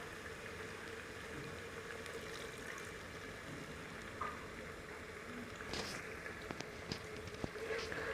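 A small splash of water poured into masala cooking in a pan for kadhi, a gentle bubbling sizzle that carries on steadily with a few light clicks and taps near the end.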